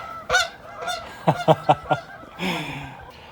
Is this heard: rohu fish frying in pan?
no